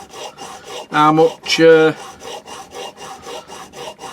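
An old, long-unsharpened chisel rubbed backwards and forwards on a sharpening stone, a rhythmic rasping scrape repeating about twice a second, close and steady, with a voice speaking briefly partway through.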